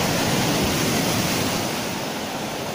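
Sea waves roll onto a winter shore in a constant loud roar of surf, heard close, with no talking. The wash fades slightly toward the end.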